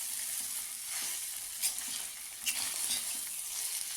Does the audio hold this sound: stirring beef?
yes